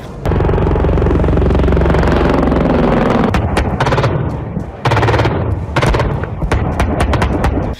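Loud, sustained gunfire and artillery during an army exercise at the Pokhran field firing range in India, rapid bursts and heavy booming blasts, the shots cracking in quick irregular clusters over a deep rumbling roar.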